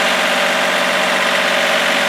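A boat's generator runs with a loud, steady, dense drone and a constant mechanical hum throughout, close by and without pause.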